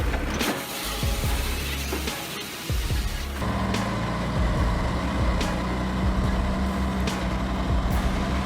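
A heavy Scania log truck, built to haul up to 130 tons of logs, runs nearby with a steady mechanical roar. Sharp air-brake hisses and clanks punctuate it, and a louder engine note takes over partway through.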